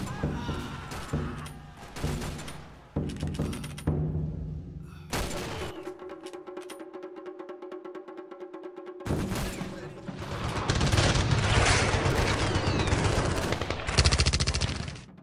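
Machine gun fire erupts during a video game ambush, with rapid bursts that start and stop in the first seconds, a steadier mechanical stretch in the middle, then dense, loud sustained gunfire toward the end.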